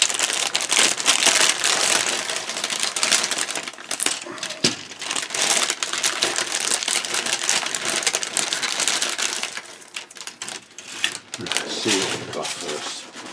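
Plastic parts from a Zvezda 1/35 T-34/85 model kit are handled in their packaging, with dense crinkling and rattling of sprues and bags that pauses briefly and then resumes. A voice can be heard underneath.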